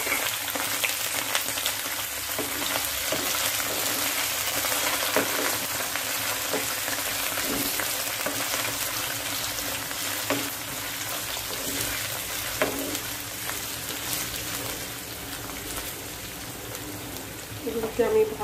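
Chopped onions fry in a pan with a dense, continuous sizzle like steady rain, broken by occasional scrapes of stirring and a few louder knocks near the end.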